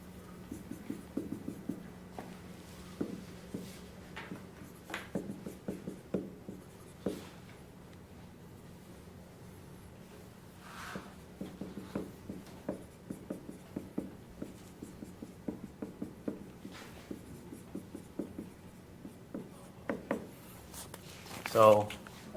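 Pen or marker writing out equations, with quick scratchy strokes coming in bursts over about twenty seconds, close and fairly quiet, while someone talks intermittently.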